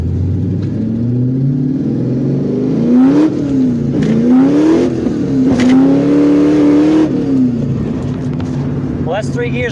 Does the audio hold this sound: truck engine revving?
yes